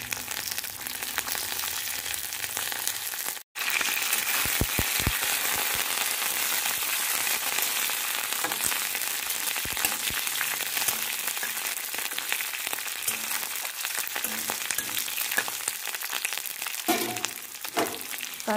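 Curry leaves crackle and sizzle in hot oil for Maharashtrian kanda poha, a dense steady frying hiss running close and loud throughout, cut by one brief drop near the start.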